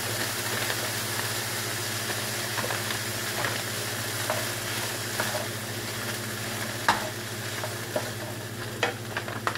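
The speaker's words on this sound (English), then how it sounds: "So now we want our vegetables to be nice and sauteed with the chicken." Peppers and onions sautéing with chicken in a pan make a continuous dense sizzle with a low steady hum beneath it and occasional utensil scrapes and clicks.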